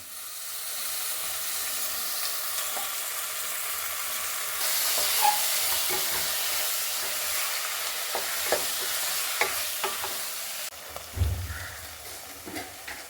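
Mushrooms fry in a pan with a constant moderate sizzle, interrupted by scattered clicks and scrapes as they are stirred, with a low thump near the end.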